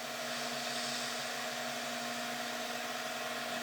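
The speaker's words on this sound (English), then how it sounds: "Now I've just got a skew chisel here that I'm going to use as a scraper" A skew chisel used as a scraper cuts into resin spinning on a lathe. It makes a steady, loud, hissing whine with a constant motor hum and no pauses.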